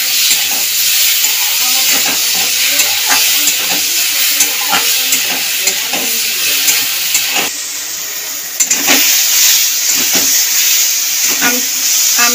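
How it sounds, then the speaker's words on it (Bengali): Green mango pieces fry with salt and a little turmeric in a pan, giving a steady loud sizzle and hiss with scraping stir strokes throughout and a brief dip in the middle. "আমটা ভাজতে ভাজতে দেখুন আমটা গলেই গেছে প্রায়।"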